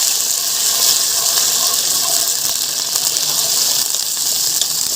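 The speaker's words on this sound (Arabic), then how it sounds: "وهبدا انزل بمعلقتين خل" Two spoons of vinegar hit garlic frying in a hot pan, giving a loud, continuous hissing sizzle that stays steady for several seconds, close up.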